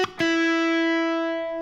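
A short electric guitar phrase on the third string, a quick note then a sustained slide up to a ringing tone that slowly fades, clean and close with no talking.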